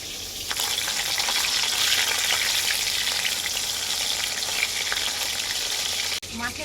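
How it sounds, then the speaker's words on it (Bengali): Chini champa fish pieces fry in hot oil in a pan, giving a steady, dense sizzle with a soft crackle that continues throughout, with a brief break near the end. "মাছটার এক পিঠটা ভালো করে ভাজা হয়ে গেছে আরেক পিঠটা পাল্টে নেবো"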